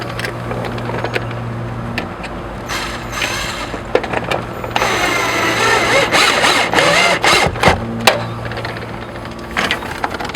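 A power driver runs screws into a roll-away screen mechanism, with close bursts of whirring and clicking ratchet-like taps. The driving sound swells in the middle and is followed by sharp mechanical clicks.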